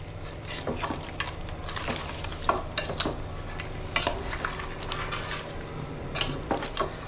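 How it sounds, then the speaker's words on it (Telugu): Goat head and leg pieces tossed with coarse salt and chili powder in a pot, heard as irregular wet clacks and scrapes of a spoon against the metal with a steady low sizzle underneath. "ప్రతి ముక్కకు ఉప్పు కారం అనేటువంటి తప్పనిసరిగా అంటుకునే వరకు కలిపెట్టుకుంటూ ఉండాలి"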